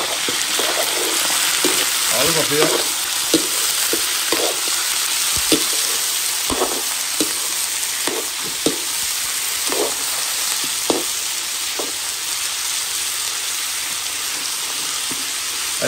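Pork meat sizzling and frying in a pan, a steady dense crackle with sharper pops scattered throughout, close and fairly loud, with a brief spoken phrase near the start.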